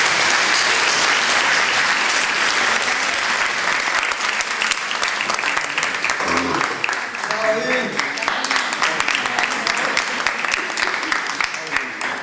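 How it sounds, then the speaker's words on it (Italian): Loud, sustained applause from a theatre audience, dense clapping that stays strong throughout, with a voice briefly audible partway through. "E facciamo ancora un applauso alle mamme qui presenti"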